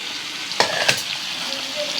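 Sweet pumpkin frying with spices: a close, dense sizzle with two quick scraping stirs near the start, then a steady crackle continuing alone.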